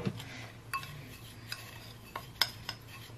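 A metal spoon stirs salt, pepper and oil seasoning in a bowl, giving a few soft scrapes and sharp clinks against the dish, quiet and close, with scattered taps over a low background hum.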